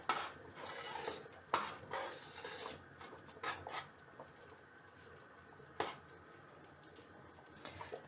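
A spoon stirring aşure with apple, apricot and cinnamon stick in a cooking pot, quiet scraping and clinks against the pot, with a few sharper knocks at irregular moments.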